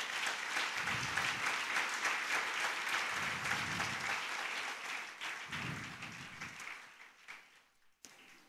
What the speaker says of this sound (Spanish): Dale un aplauso fuerte al Señor.